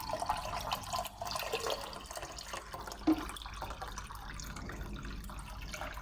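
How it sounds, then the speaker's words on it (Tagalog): Water runs into a cooking pot in a home kitchen for a tomato-based meatball sauce, a soft trickling and splashing stream that stays fairly faint with one small clunk midway. "So, sa ganito, maglalagay tayo ng tubig."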